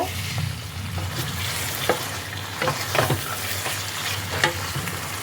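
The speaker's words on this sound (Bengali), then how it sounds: "এবার আমি এর মধ্যে দিয়ে দিচ্ছি ভেজে রাখা পনির। পনিরটাকে মশলার সাথে ভালো করে মিশিয়ে নেব।" Fried paneer is stirred into a spice masala in a pan, with a constant close sizzle and repeated spatula scrapes and knocks at an irregular pace, no voices.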